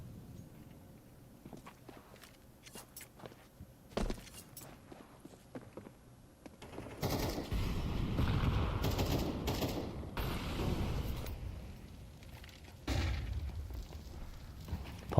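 Gunfire from a Counter-Strike esports match, starting with scattered sharp shots and footsteps, then building into dense, sustained bursts of rifle fire that run loud through most of the clip.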